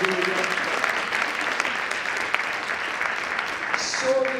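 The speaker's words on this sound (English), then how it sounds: "we'll clap for them" A crowd at a women's empowerment summit applauds steadily for a few seconds, a dense patter of clapping with a faint voice or whistle near the end.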